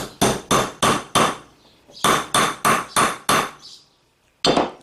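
A hammer strikes a small flaring tool to set a snap on a granite surface: four sharp, loud, ringing blows, a pause, then four more, followed by a quiet gap and one final strike.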